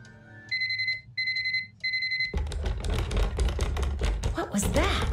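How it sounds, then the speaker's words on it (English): An alarm clock in the video game Curse of Blackmoor Manor rings in three short, shrill electronic beeping bursts, followed by loud clattering, rattling noises and a shifting tone. "we're going to set this alarm just for a couple hours"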